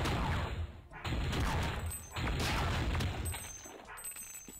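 Gunfire in the Flash game Crazy Flasher 6, loud continuous bursts of shots and crashes that fade toward the end, with a voice speaking faintly over it.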